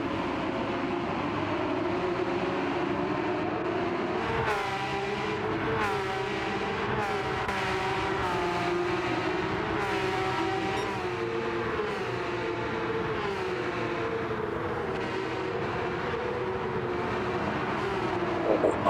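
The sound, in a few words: Porsche Cup race cars in racing video game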